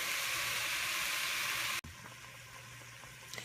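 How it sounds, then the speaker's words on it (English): Turkey chili base vegetables sautéing in a pan, a steady close sizzle that drops suddenly midway and continues as a softer frying hiss with faint pops. "these are sauteing beautifully"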